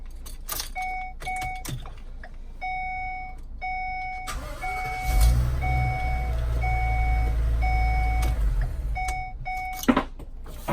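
A Ford E450 Jayco Greyhawk 30Z RV engine cranks and starts amid repeated dashboard chimes, then settles into a low steady idle with the chimes continuing, close by, with no talking.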